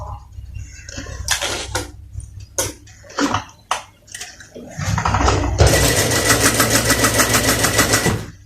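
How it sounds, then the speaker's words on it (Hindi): A sewing machine stitches a round neckline on a kameez, starting with short bursts and clicks before running into a loud, continuous rapid stitching rattle for the last few seconds. "और यहाँ से हमने सिलाई स्टार्ट करनी है।"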